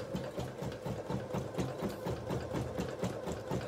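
A Bernette sewing machine stitches at speed, giving a fast, even mechanical chatter of needle strokes over a low motor hum, moderately quiet and steady with no voices.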